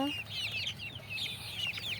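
Chickens and roosters on a poultry farm, a flock of young birds about one to one and a half months old, clucking and chattering continuously with overlapping calls close by.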